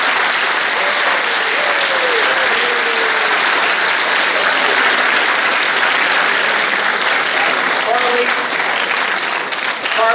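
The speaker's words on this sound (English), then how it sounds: "So once again, a round of applause for Karlie, please." Sustained applause from a high school crowd, dense steady clapping that stays loud for the whole stretch, with faint voices underneath.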